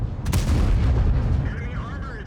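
A tank cannon fires in the Object 260 tank video game. One loud, close blast hits right at the start, and its low rumble keeps rolling under a thinner electronic whine for the rest of the moment.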